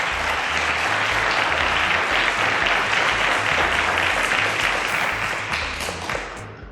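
A quiz show audience gives a contestant a round of applause in the studio, a loud, dense, continuous wash of clapping that tapers slightly near the end, with a low rhythmic music bed underneath.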